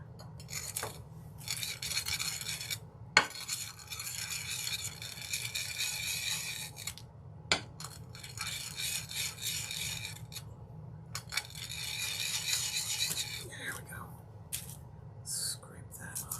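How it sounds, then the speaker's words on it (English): A palette knife scrapes ground gouache paint off a palette in repeated rasping strokes with short pauses, close and steady, with a few sharp taps and a voice talking softly in between. "let's make sure that's all ground off of the palette knife"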